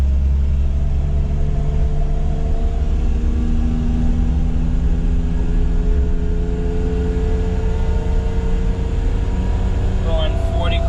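Engine of a Daihatsu Midget 2 with a three-speed gearbox, heard while driving in traffic at about 40 km/h: a steady, loud, droning hum with rumbling low tones that holds constant throughout.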